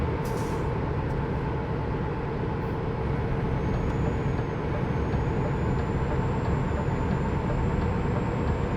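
Steady, loud hissing rush of air brakes on a truck hauling a livestock trailer in Euro Truck Simulator 2, continuing unbroken under a low engine drone with a faint high tone.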